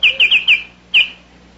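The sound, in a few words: Baltimore oriole song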